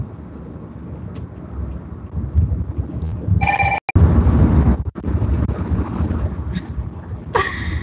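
A mobile phone ringing, short electronic tones chirping intermittently over rough wind buffeting and handling noise, with a clearer ring burst midway and another near the end.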